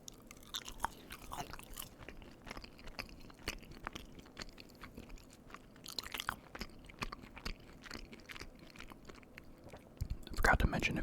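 Close, crisp chewing and crunching of crinkle-cut cheese fries, with irregular bites and mouth sounds under soft whispered talk, ending in a louder rustle.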